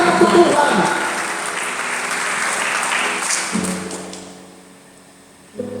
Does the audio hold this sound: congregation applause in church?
yes